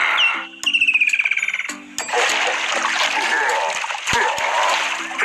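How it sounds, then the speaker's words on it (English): A cartoon hippopotamus wallows in a water hole, splashing loudly for several seconds with bursts of sloshing water and a run of croaky, rhythmic calls near the start. "the hippopotamus has been wallowing in his water hole all morning."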